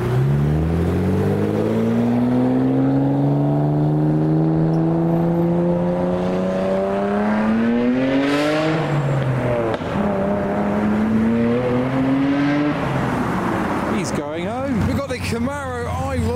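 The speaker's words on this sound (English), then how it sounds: "Oh, the R8's back, the noisy one." A noisy Audi R8 sports car engine rumbles steadily at close range, its pitch rising and falling across several revs, with people talking over it throughout.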